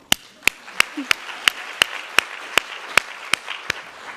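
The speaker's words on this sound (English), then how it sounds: "So I just want to thank you again and give you a round of applause" Sparse, evenly spaced claps ring out one at a time, about three per second, sharp and fairly close, over a quiet room background rather than full crowd applause.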